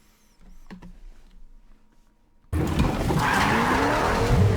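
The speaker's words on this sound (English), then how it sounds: "Clix and Deyy are in the truck. They have gotten the slurp truck" The slurp truck drives in Fortnite, quiet and sparse at first, then a loud engine roar with skidding tires cuts in abruptly and holds to the end.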